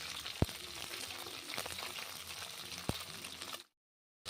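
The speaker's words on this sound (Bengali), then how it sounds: "ভালো ভাজা হয়ে যাচ্ছে দেখুন" Steady crackling sizzle of morola fish frying in hot oil, with a couple of sharp pops, then cutting off into silence.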